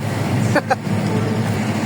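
Steady road traffic hums and rumbles nearby, with a brief voice cutting in partway through.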